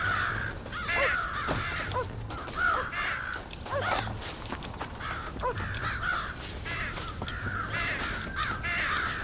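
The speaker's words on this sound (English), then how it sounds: "Scare the crows out of the silo." Crows in a silo in the video game Red Dead Redemption caw over and over in a steady, overlapping chorus of harsh calls against continuous game ambience.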